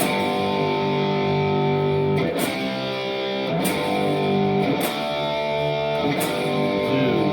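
Heavily distorted electric guitar strums sustained chords, switching to a new chord every second or so in a steady progression.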